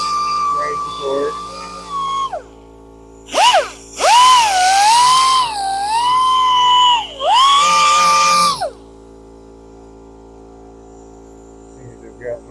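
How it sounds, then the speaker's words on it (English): A wood piece is sanded while spinning on a woodturning lathe, with a steady motor hum throughout. Several loud, whining bursts of abrasive friction come in the middle, then it settles back to the quiet hum. "Sanding in the direction that I have grain support."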